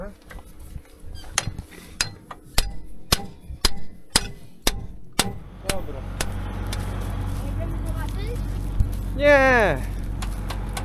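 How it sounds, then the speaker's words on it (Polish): Hammer strikes knocking out a worn aftermarket hanger part on a Grimme CS 1500 machine, a run of about ten sharp metallic blows at a steady rhythm, then a running engine hum and a brief squeal, with some talk. "Tu musimy wybić. No, trzeba młotek."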